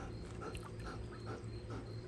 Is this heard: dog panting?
yes